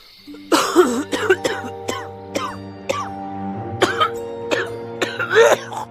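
Several harsh coughs in a row from an elderly woman, loud and close, coming in uneven bursts with short gaps between, one person coughing repeatedly over a faint background tone.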